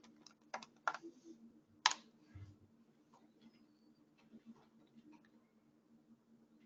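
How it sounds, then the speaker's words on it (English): Keys tapped on a computer keyboard as an address is entered into a blank browser tab, a quiet burst of clicks and taps near the start, then sparse softer taps over a steady low hum. "I'll just type in localhost to connect."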